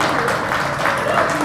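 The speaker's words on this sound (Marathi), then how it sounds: "एकदा जोरदार टाळ्या सौरभसाठी" A crowd at a trailer launch event applauds for Saurabh with a dense, steady wash of clapping, and voices mix in throughout.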